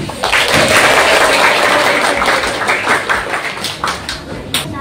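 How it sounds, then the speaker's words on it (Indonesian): A group of scouts claps together, a loud, dense burst of applause that starts strong and gradually thins and tapers over several seconds, with scattered individual claps near the end and faint voices mixed in. "Beri tepuk tangan"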